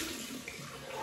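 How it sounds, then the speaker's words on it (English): Cold tap water runs steadily during a shaving rinse, a brief continuous splashing stream at the sink with no talk. "Cold water rinse. Nice and cold."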